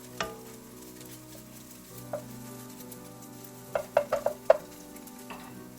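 Crab sticks stir-frying in a pan with a low, steady sizzle, punctuated near the end by a quick series of sharp clicks and scrapes as the ingredients are tossed and stirred.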